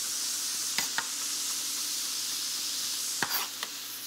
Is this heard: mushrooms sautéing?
yes